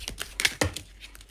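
Tarot cards being handled and shuffled from a deck, giving quick crisp flicks and taps in a short, close burst.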